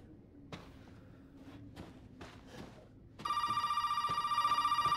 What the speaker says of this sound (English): get that damn phone right now